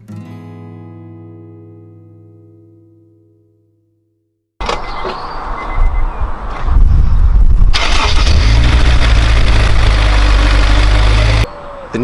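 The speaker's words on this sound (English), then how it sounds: "Now it's time to test it and start your car." A Honda S2000 sports car starting after a battery replacement: a fading musical chime, a few seconds of silence, then the starter cranks and the engine catches, revving loudly before settling into a steady close idle.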